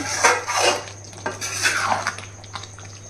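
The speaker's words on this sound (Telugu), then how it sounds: "మనం ఇలాంటి అట్ల గరిటితోటి కలిపితే కనుక అసలు ముక్కలు విరిగిపోవు" A flat ladle scrapes and clinks against a pot while mixing chicken curry, a few close metallic knocks and scrapes with no talk.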